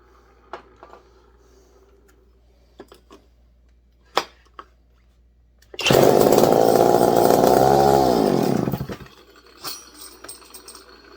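A McCulloch chainsaw, an S550 model, briefly catches and roars for about three seconds before dying, after a few sharp isolated clicks and knocks.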